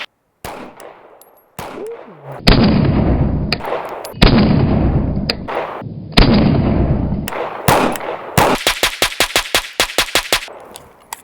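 Canik Prime pistol firing Blazer ammunition outdoors: several loud, sharp single shots with ringing tails, then a rapid string of evenly spaced shots near the end.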